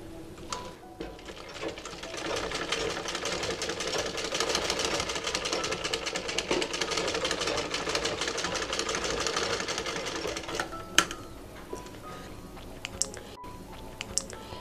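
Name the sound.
sewing machine stitching side of cloth face mask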